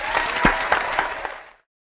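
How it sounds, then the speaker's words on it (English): A burst of clapping from a small group gives a big round of applause, close and brisk with a few sharper claps standing out, before it stops abruptly into silence. "Giving you a big round of applause over here."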